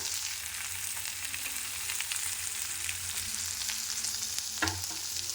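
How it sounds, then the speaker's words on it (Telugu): Radish leaves fry in a pan with a steady, close hiss of crackling oil, broken near the end by a short scrape of a spatula. "దీన్ని మొత్తం మంచిగా ఫ్రై చేసుకుందాం చూడండి ముల్లంగి ఆకు ఎలా ఫ్రై అవుతుందో"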